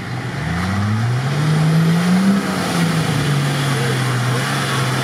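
An off-road truck's engine revs hard and climbs in pitch while it drives through mud and a puddle, a loud, sustained mid-range roar with no one talking.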